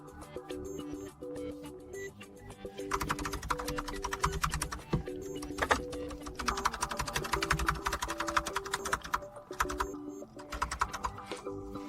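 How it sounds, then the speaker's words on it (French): Rapid clicking of keys on a computer keyboard, steady bursts of typing close to the microphone over a faint tonal background. "je vais maintenant taper quelque chose sur mon clavier."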